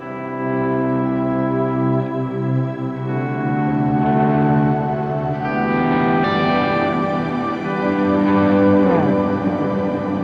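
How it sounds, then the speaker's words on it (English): Electric guitar chords run through a Jet Pedals Revelation ambient pedal on its shimmer reverb setting, ringing out in a lush, octave-up wash that sustains and swells continuously for about ten seconds without any voice. "So that right there is the Shimmer Reverb."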